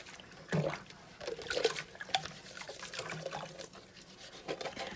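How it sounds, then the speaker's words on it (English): A loofah scrubby, firmer than a traditional sponge, scrubs a plastic cup under running water, giving a few close wet scraping bursts over a steady trickle with no talk. "we're going to start with our little loofah to show you that it can wash plastic."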